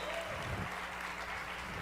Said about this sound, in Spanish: Que se escuche fuertes aplausos, por favor, para Paulina Villarreal de The Warning